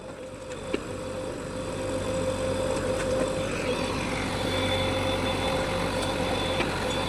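A JCB loader's diesel engine idling steadily while loading manure into a tractor trolley on a farm, a continuous low drone with a faint whine and a few small clanks.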